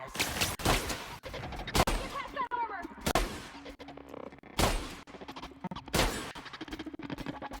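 Repeated gunshots from a sci-fi shooter video game, The Outer Worlds: loud, sharp cracks arrive in irregular bursts, with game sound effects and some voice sounds mixed in between the shots.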